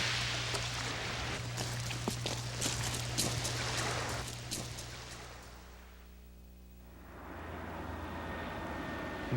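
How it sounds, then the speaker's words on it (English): A propeller airplane drones overhead, its broadband engine roar building and fading as it passes over a remote spot near Juneau, Alaska, with a steady low hum underneath. "An airplane! An airplane!"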